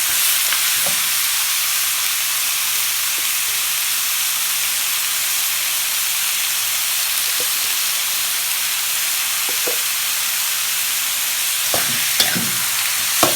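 Pork and bones stir-frying with pla ra, a steady loud sizzle and hiss close up, with occasional soft clinks of the utensil near the end.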